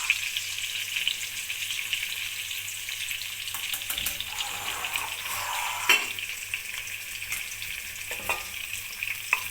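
Square pieces of boneless chicken fry in a pan with a constant, loud sizzle, broken by occasional stirring clacks and scrapes.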